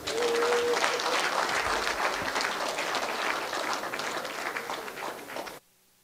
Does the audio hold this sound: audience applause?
yes